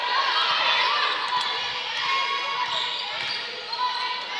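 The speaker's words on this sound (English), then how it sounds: "You can hear the St. Clair cheerleaders on the baseline cheering on their team." St. Clair College cheerleaders chant and cheer from the baseline at a college basketball game, a steady bright wash of crowd noise that stays loud and constant throughout, without clear individual voices standing out.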